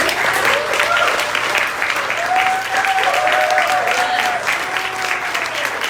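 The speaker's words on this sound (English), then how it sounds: "I would like to give a huge round of applause to all of our performers tonight" A crowd at a Women's Rights Day event applauds performers with loud, sustained clapping and some cheering, while a voice carries over the top.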